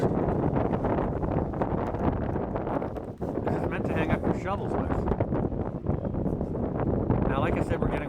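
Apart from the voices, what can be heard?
wind gusts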